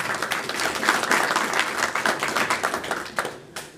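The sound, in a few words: audience applause at a poetry gathering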